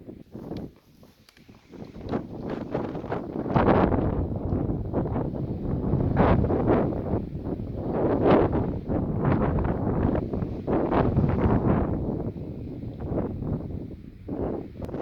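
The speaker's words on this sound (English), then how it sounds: "Don't know if you can hear me with all this wind. It is a crazy amount of wind up on these." Strong gusting wind roars across an exposed mountain ridge in New Hampshire's White Mountains along the Appalachian Trail, buffeting the microphone in a loud, continuous rush that swells and eases over several seconds.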